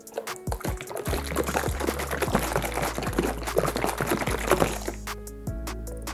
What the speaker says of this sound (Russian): И заливаем его холодной водой. Закрываем его крышкой и трясем.